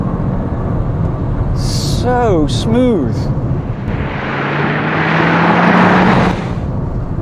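Inside the cabin of a 2023 Toyota Crown Hybrid MAX under hard acceleration: after a short spoken remark, a steady, slightly rising engine drone and broad road-and-wind rush swell for about two seconds, then ease off.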